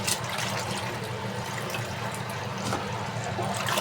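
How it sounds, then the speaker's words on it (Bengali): Water splashes and sloshes as soaked koi fish are rinsed in a kitchen, a steady close wash of liquid with no talk. "এখন এগুলো ধোয়া মোছা করে নিই। ধোয়া মোছা মানে ধুয়ে নিই"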